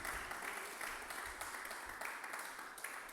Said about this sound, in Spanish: Ahora otro aplauso a Jesús